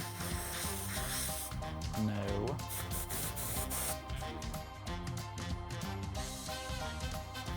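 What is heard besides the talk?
spraying gold spray onto a wedding cake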